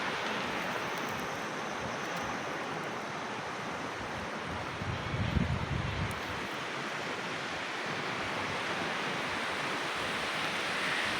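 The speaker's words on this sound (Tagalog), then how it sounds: "tunog ng alon." Steady ocean surf washes continuously with a broad hiss and low rumble, one swell building and breaking a little louder midway, with no voices over it.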